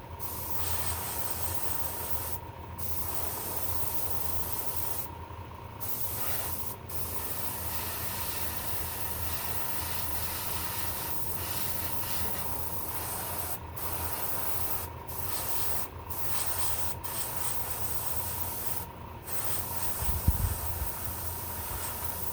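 An airbrush sprays chrome paint on model parts, hissing in long steady bursts with brief pauses between passes, a soft continuous spray close by, no talking.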